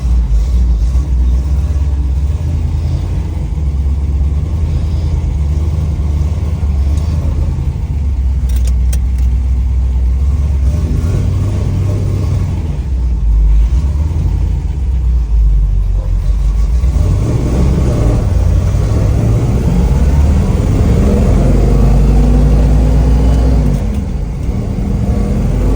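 A body-off restored 1963 fuel-injected split-window car drives steadily, its engine rumbling loud and continuous, with a few rising revs near the end and no talking.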